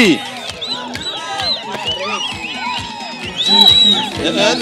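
Outdoor political rally crowd cheering and whooping for the Deputy President, loud and close, with a voice speaking over the noise in bursts.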